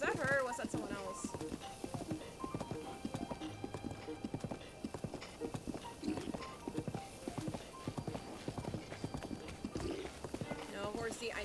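Rhythmic hoofbeats of a horse galloping in Zelda: Breath of the Wild, quick steady clip-clop throughout, with a person talking over it.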